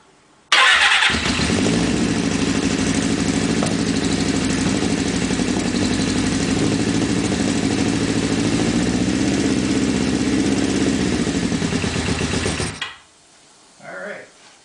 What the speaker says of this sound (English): we got it to start and run